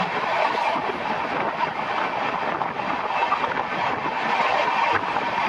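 A local train running along tracks near Lingampalli, a loud, continuous broadband rumble with faint rhythmic wheel clatter, steady and close for the whole stretch.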